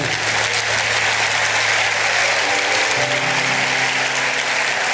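A church congregation applauds after prayer at a worship service, a dense, steady wash of clapping that holds at full strength for the whole stretch, with a faint low hum beneath.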